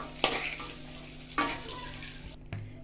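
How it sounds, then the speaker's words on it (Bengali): Soybean chunks fry in hot oil in a pan, giving a soft steady sizzle with a few louder scrapes of stirring spaced through the short stretch, close by and alone without voices. "অল্প নাড়াচাড়া করে নামিয়ে নেবো। দু মিনিটে ভেজে নামিয়ে দিলাম।"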